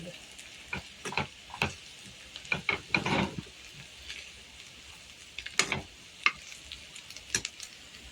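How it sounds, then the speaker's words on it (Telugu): Potato and banana pieces frying in a pan give a low sizzle, broken by a string of sharp, close scrapes and clinks as a spoon stirs them, with no talking. "కొంచెం వేసుకొని బాగా మిక్స్ చేసుకున్నామండి"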